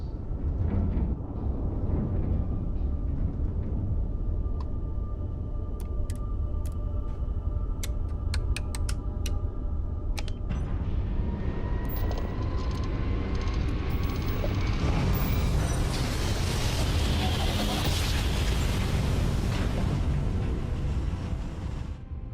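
Spaceship retro rockets firing in the game Starfield: a sustained, loud, dense roaring rumble filling the whole clip, with a brighter hissing surge building toward the end and scattered sharp ticks early on.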